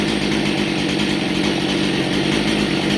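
Husqvarna 272 XP chainsaw engine running steadily after starting, a loud, continuous close-up drone with a raspy two-stroke buzz and no pauses or talk.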